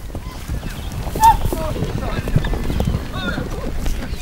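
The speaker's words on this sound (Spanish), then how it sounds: "los jinetes van agrupando a los caballos intentando que los potros sin domar queden aprisionados en el centro" Herd of horses moving across open ground in Mongolia as nomad riders drive them together, with a busy patter of hooves and occasional snorts under continuous narration.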